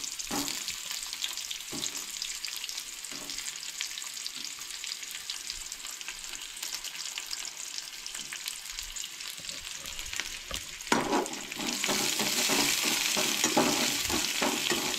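Onion and garlic fry in oil in a pan for a Goan sprouted moong curry, a continuous close sizzle with occasional stirring scrapes, swelling into a louder, brighter crackle toward the end, no voices.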